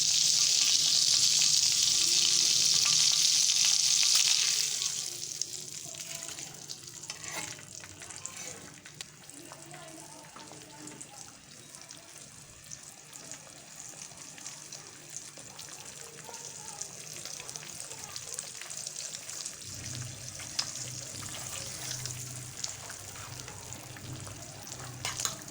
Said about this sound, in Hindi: मक्खन गर्म हो चुका है। अब हम इस पर अंडा डालेंगे।